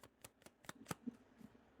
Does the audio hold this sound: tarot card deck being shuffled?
yes